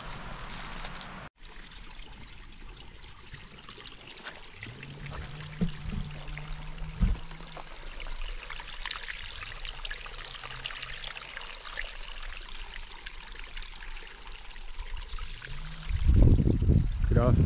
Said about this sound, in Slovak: Krásny, nádherný potôčik